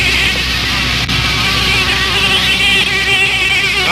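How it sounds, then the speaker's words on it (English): A high, whining buzz of mosquitoes hums on without a break, loud and close, with no voices. "Now let those mosquitoes out of there."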